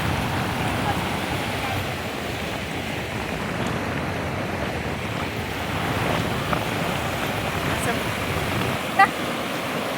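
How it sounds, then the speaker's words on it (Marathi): River water flowing at a riverbank where clothes are washed, fresh water coming down from upstream: a continuous broadband rush, steady and fairly close, mixed with wind buffeting the microphone. "मस्त असं कळकळणारं पाणी बघा इथं"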